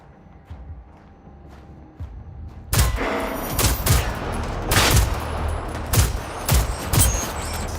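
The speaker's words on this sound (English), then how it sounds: "let's see if it's any better for me to start shooting stuff with Full Metal Jacket than it was for me to shoot with other stuff" Gunfire in the video game Generation Zero using full metal jacket ammo: a quiet start, then a series of loud, punchy shots at uneven intervals with reverberant tails.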